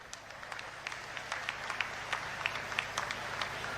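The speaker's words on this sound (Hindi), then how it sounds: "एक बार जोरदार तालियां इनके लिए भी मार दीजिए।" Crowd applause at a public rally held by a chief minister in Charkhi Dadri, a steady mass of clapping with scattered louder claps standing out, moderately distant and continuing throughout without speech.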